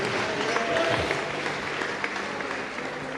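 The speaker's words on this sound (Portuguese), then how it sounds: "aplauda o Rei Jesus e tome o seu assento" Applause from a church congregation, a broad wash of clapping that holds steady at moderate loudness, with scattered voices mixed in.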